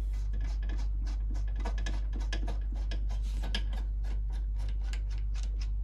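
A screw being loosened from a rubber well nut gives a stream of faint scratchy, ticking rasps over a constant low electrical hum, close by and continuous.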